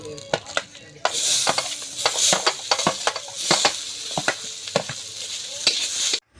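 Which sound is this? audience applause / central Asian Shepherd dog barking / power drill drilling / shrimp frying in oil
shrimp frying in oil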